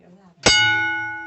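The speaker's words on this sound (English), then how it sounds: "You want to hear this bell one time?" A single loud metallic strike of an old mine signal bell rings out sharply after a brief murmur of voice, its tone sustaining and slowly decaying, inside a gold mine.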